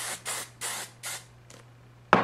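Several quick hissing spritzes of hair spray in a loose rhythm, the last one fainter, then a sharp nearby clatter right at the end.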